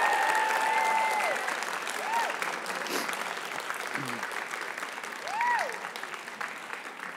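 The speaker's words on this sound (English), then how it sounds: "I want to invite the graduates to give a round of applause to all these fantastic people" Graduates at a Stenberg College graduation ceremony applaud the staff, a steady dense wash of clapping throughout with faint voices and whistle-like calls rising over it.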